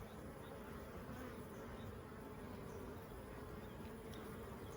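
Honey bees buzz continuously at a busy hive entrance, a dense, even drone of many wings close by and faint, with no talk.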